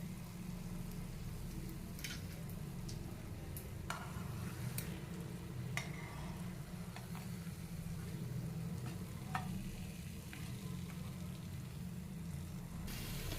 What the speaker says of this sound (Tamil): பாத்திரம் வச்சு ஆயில் சூடு பண்ணியிருக்கேங்க அந்த ப்ரெட் துண்டுங்களை வந்து நம்ம பொறிச்சிக்கலாம்